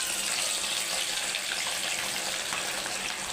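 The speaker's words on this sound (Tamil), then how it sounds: "அந்த எண்ணெயை இப்போ நம்ம ஃப்ரை பண்ணுறதுக்காக ஊற்றிக்கலாம்." Wood-pressed groundnut oil is poured into a pan for frying ivy gourd, making a continuous, even, hissing rush close by with no voices.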